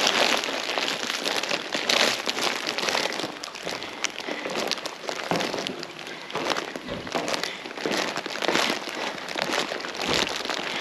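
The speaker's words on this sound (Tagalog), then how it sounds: "nakikita nyo medyo umuulan or umuulan" Steady rain falls outdoors at night, a dense, continuous hiss of drops pattering on surfaces, with a few louder crinkling bursts mixed in.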